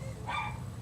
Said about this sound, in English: I apologise for the noise in the background of dogs barking.